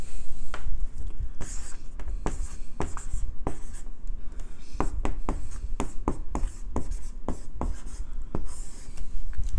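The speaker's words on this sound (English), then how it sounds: "and I'll write this down for you" Pen scratching across paper close up, a busy run of short strokes and taps with brief pauses, steady and clear with no talking.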